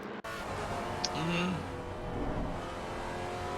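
A GT3 race car engine in the racing game Assetto Corsa Competizione at Hungaroring hums steadily with a brief rising rev partway through, steady mechanical drone throughout, with faint talk underneath.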